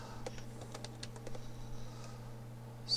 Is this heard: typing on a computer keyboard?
yes